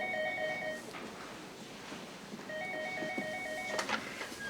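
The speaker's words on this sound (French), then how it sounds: "le téléphone n'arrête pas de sonner" A telephone rings in an office in two electronic trilling bursts separated by a short pause, fairly faint over background room noise.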